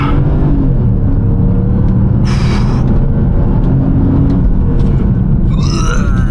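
A 300 hp, 400 Nm V8 car with an automatic gearbox driving hard, a loud continuous low engine rumble with slight shifts in pitch as gears change, heard from inside the cabin.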